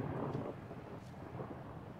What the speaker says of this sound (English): I don't know if y'all can hear that thunder